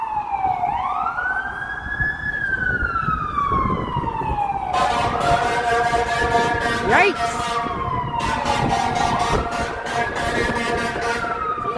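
On a Toronto city street at night in winter, a fire truck's siren wails loud and close in slow rising and falling sweeps, joined by sharp bursts of air horn, while someone exclaims over it.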